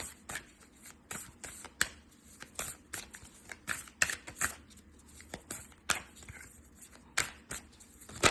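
Close, crisp riffling and slapping of cards being shuffled by hand, in irregular bursts of flicks and snaps with no talking.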